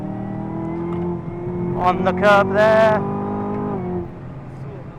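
A Chevy Camaro's engine pulls hard under power while drifting, a steady loud drone that swells into a higher rising rev burst before easing off, with someone talking over it throughout.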